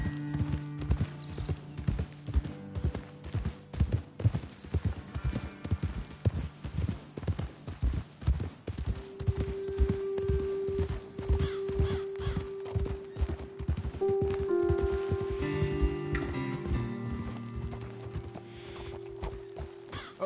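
Horse hooves clip-clopping in the game Red Dead Redemption 2, a rapid steady rhythm of hoofbeats that slows and fades as low tones and music-like hums rise in the second half.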